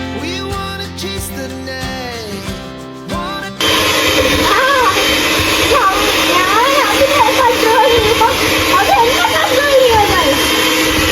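An electric mixer beats vanilla cupcake batter in a home kitchen, a loud steady whirring drone that starts abruptly partway through after a stretch of background music.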